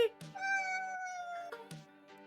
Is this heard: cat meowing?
yes